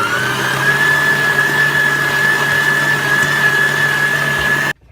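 A stand mixer kneads brioche dough with butter worked in, giving a steady motor whine and hum close by that ends abruptly.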